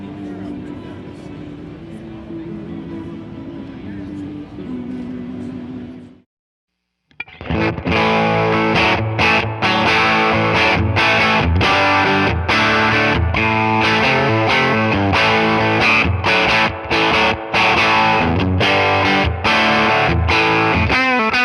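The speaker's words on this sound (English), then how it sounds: "I'm going to turn the amp up to 10, but I'm going to bring down the output halfway" A quiet, fuzzy guitar tone gives way after a short pause to a loud, heavily driven electric guitar through a Fender Tone Master amp cranked to 10, playing bright chords and riffs.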